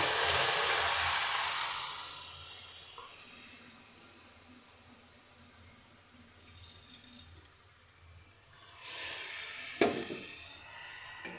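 Water poured into a pan of frying egg curry masala with potatoes: a loud sizzling rush at first that fades to a quiet simmer, then a brief hiss and a clatter near the end, with no talk.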